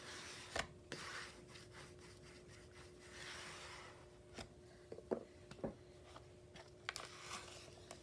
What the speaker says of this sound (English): All right, then burnish that down.